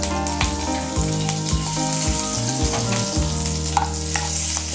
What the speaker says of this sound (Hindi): करी लीव्स डाल रही हूँ.